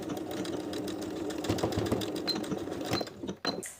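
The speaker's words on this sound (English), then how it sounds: "Then we'll sew these vertical stitches in line with the previous zipper stitching." A sewing machine runs steadily, stitching vertical lines along a zipper and zipper guard on a sporty athletic top, a continuous mechanical whirr with fast needle clatter that stops abruptly near the end.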